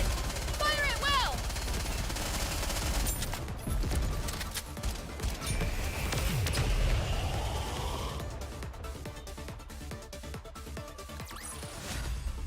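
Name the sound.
gunfire in a video game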